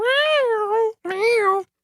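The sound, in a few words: synthesizer effect sounding like a robot cat meowing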